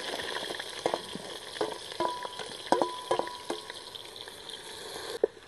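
Onions fry in hot oil, giving a steady close sizzle broken by repeated clicks and scrapes of stirring, with no talking.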